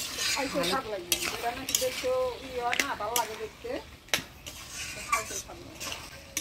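A fish head being stirred into bottle gourd curry in a pan, giving scraping and sizzling sounds under steady talking, with several sharp clinks of the spoon against the pan.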